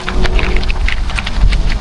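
Steady rain patters close by, a dense wash of drops with occasional louder splashes, no voices.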